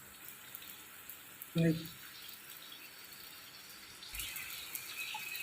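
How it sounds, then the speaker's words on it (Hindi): Rain falls outside a house as a steady, even hiss, with a brief spoken word partway through and the downpour swelling slightly toward the end. "बारिश हो रहा है सुबह ही से।"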